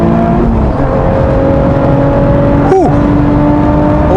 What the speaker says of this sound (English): Keep the foot on the brake, release, and flat out again.